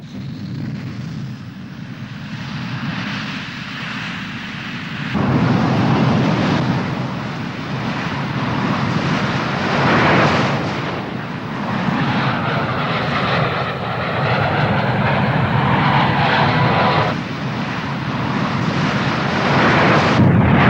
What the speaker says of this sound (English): regiment is equipped with the MiG-21 BIS, many thousands of which have been built for the Soviet frontal air forces